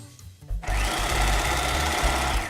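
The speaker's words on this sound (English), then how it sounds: "Now what we want to do is sew right around the top so that they stay together as one piece." A sewing machine stitching fabric pieces together around the top edge of a child's dress, starting abruptly and running as a steady, close, whirring hum with a rapid underlying rhythm for about two seconds.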